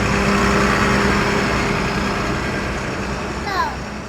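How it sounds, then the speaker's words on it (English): A big tractor trailer truck's engine makes a steady, loud, broad rumble with a droning hum that stays constant and then eases slightly toward the end. "It's a tractor trailer."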